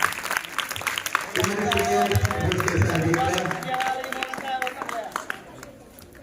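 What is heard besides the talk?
clapping at a school prize ceremony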